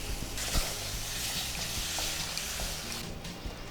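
Ground masala sizzling and frying in a hot pan on low heat after a splash of water, a steady close crackle with soft stirring scrapes throughout, no talking.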